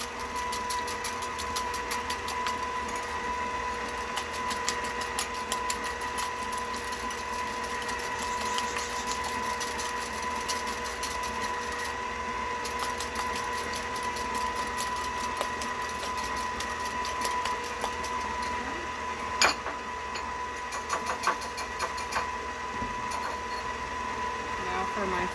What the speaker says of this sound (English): I'm going to beat my egg whites until they are foamy